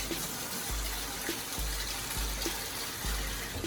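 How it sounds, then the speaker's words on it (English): Water pours steadily into a pot for arroz con pollo, a continuous soft splashing trickle with faint low thumps underneath. "I'm gonna pour water"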